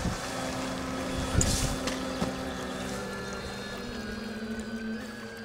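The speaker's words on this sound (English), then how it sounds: "You can just see the boat coming back now." Faint steady drone of a distant boat motor on a French carp lake on a winter evening, under wind and light rain, with a couple of soft knocks.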